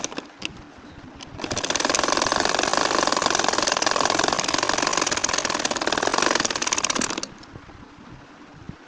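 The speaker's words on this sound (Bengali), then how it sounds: "আমি ঘুরিয়ে ঘুরিয়ে কাঁথাটা সেলাই করে যাচ্ছি" A domestic sewing machine stitches a nakshi kantha quilt as the fabric is turned to form flower petals. Its fast, even mechanical whirr runs loud and steady for about six seconds, with quieter handling sounds before and after.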